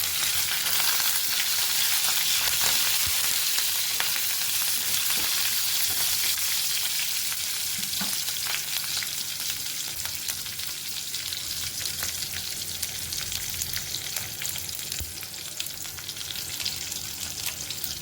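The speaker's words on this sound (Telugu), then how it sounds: "ఎండుమిర్చి, కరివేపాకు, పచ్చిమిర్చి వేసేస్తున్నానండి." Dried red chillies, curry leaves and green chillies fry in hot oil for a tomato and peas masala curry, making a loud, continuous sizzle with occasional stirring scrapes and no speech.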